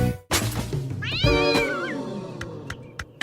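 A cat meows loudly and close by, with one long rising and falling meow amid a few shorter sharp cries and clicks.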